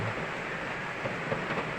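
Dense, steady hiss of heavy rain pouring down in Tripura, continuous and even throughout with no voices.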